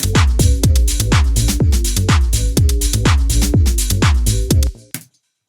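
A loud electronic dance loop with punchy kicks on a steady beat and a deep bass line, ending abruptly into silence.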